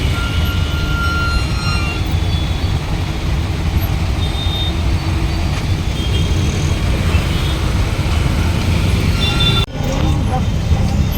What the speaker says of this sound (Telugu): ఇంత ట్రాఫిక్ ఏంట్రా బాబు?